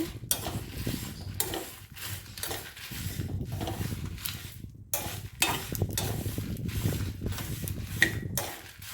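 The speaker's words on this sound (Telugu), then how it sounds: "చూడండి చిట్టపట్లు ఆడుతున్నాయి అంటే బాగా వేగినాయి" Fish frying in hot oil in a home kitchen, crackling and sputtering in uneven bursts of sizzle with occasional metallic stirring clinks, close up and with no one talking.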